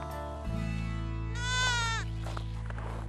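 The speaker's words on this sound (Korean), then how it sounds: "그와 함께 산을 오르는 300마리가 넘는 양과 염소들" A large flock of more than 300 sheep and goats climbing a mountain in frozen Siberia, with one loud, wavering bleat rising clearly over a constant low droning hum.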